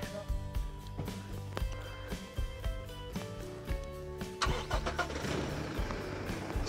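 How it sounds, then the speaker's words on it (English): A car engine starts and pulls away towing a drag coil for area-wide gold prospecting, with rattling and clunking over a steady mid-pitched engine drone, close and continuous. "let's go for a little drive, Marcus."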